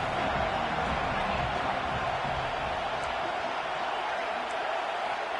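Home crowd at a Michigan Wolverines college football game roaring steadily on a fourth-down play, a dense, continuous stadium wash of cheering and noise with no breaks.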